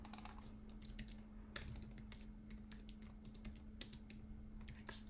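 Computer keyboard on an Apple iMac M1 clicking in quick, irregular bursts of keystrokes, close and fairly quiet, with a faint steady hum underneath and no one speaking.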